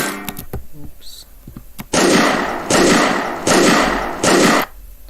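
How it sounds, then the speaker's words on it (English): Four loud, raw gunshot blasts in a steady rhythm, each with a harsh, sustained burst, preceded by a few short clicks and taps. "The gunshot without the glue compressor"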